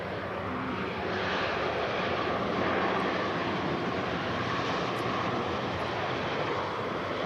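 A Lufthansa airplane at Manchester Airport roars steadily, its broad engine noise filling the air at constant loudness without a break.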